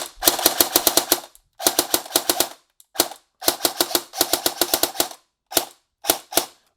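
Stock KWA airsoft AEG firing in short bursts, rapid sharp mechanical cracks in tight strings separated by pauses, with a couple of single snappy shots at the end, loud and close with no talk.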